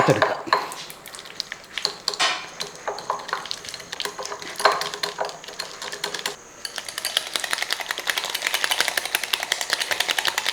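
Lumps are broken up in a bowl while making bun maska, with quick tapping and scraping clicks of a utensil against the bowl, close and irregular, turning into a faster steady clatter toward the end.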